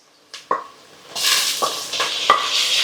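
Tomatoes drop into a frying pan for watermelon biryani, a couple of sharp knocks followed by a rising sizzle, with several clear clinks of a spoon or spatula striking the pan as it stirs, close and fairly loud.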